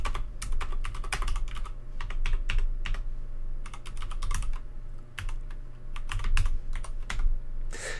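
Steady typing on a computer keyboard while writing a short program on a Windows 10 PC, with dense clusters of clacking keystrokes over a low hum, close and fairly loud, no talking.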